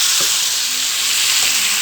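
Chopped tomatoes sizzle steadily in a hot pan, a continuous close frying hiss with a couple of soft stirring scrapes mixed in, no voices.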